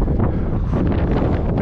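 Strong wind on a mountain summit in the Scottish Highlands, a steady, loud buffeting roar hitting the microphone without a break, with no voices.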